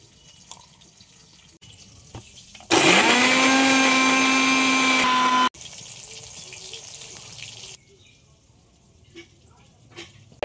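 A mixer grinder whirs loudly for about three seconds grinding cumin and chili, starting and stopping abruptly, between quieter stretches of room noise.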